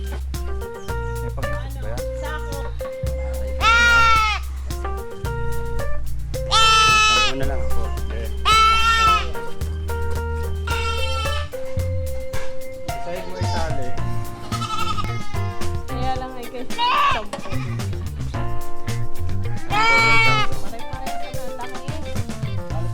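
Four goats bleat repeatedly while being weighed at a farm, their loud, close, wavering cries recurring through the clip over a steady low hum, with voices also present.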